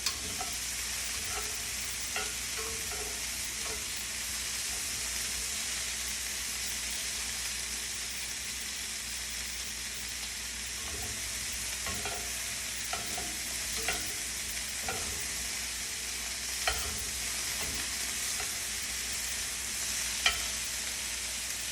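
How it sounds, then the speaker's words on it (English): Asparagus and red bell pepper sauté in a pan with a steady, even sizzle, punctuated by scattered soft clicks and scrapes as they are moved around; no voices. "you're probably going to saute this a little bit longer, roughly about another 2 minutes"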